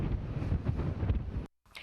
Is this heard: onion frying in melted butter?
no